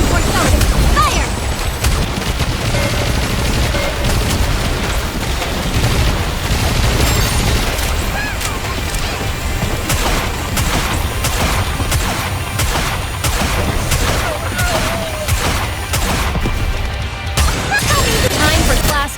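Dense gunfire in the video game Goddess of Victory: Nikke, loud rapid shots and bursts packed together for the whole stretch, with crashes and booms mixed in and a voice talking at times.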